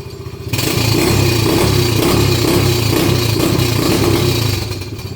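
A quad ATV engine with running problems revs up hard under throttle, a loud close pulsing drone that holds high for several seconds then eases back down.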